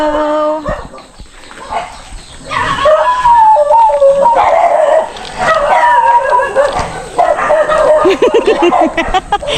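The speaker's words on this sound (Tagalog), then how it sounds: "Hala, ang dami palang aso dito." Several dogs bark and yip in a busy outdoor scene, the barks overlapping and fairly close, with excited voices and other animal noises mixed in.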